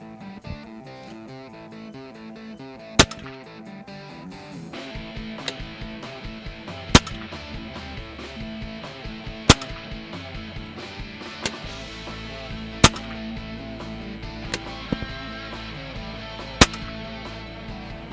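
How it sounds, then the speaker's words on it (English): A BSA Lone Star .25 caliber air rifle fires pellets on a range, with several sharp, isolated cracks spaced a few seconds apart over a quiet background, roughly half a dozen shots in all. "We're going to shoot a 5-shot group with the Kodiak match pellet."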